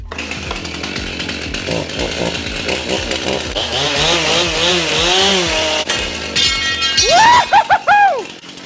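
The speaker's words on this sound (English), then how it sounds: "We're ready to cut this aluminium tube." A loud power saw cuts through aluminium tube for a foiling boat build, its motor whining and rising in pitch under load with a harsh grinding rasp, then dropping and revving in a few final surges.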